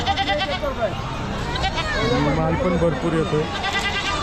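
Goats, including pregnant does and does with kids, bleat again and again, overlapping, amid a busy crowd at a large goat and sheep market in Chakan, Maharashtra, while someone talks close by.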